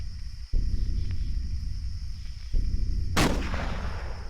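Video game gunfire in Cataclysm Dark Days Ahead aimed at a turret at a military outpost: two sharp separate shots, then a louder, brighter blast near the end, each with a short decaying tail over a low steady hum.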